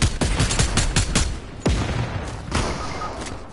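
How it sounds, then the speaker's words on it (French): Gunfire aimed at the player in a video game: a quick burst of close, loud shots, then a pause and single heavy reports echoing away. "Il me voit pas, il me tire dessus."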